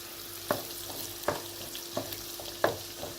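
Bulgur stirred with melting butter in a pot for pilaf, a spoon knocking and scraping in slow, evenly spaced strokes over a soft frying hiss and a steady low hum.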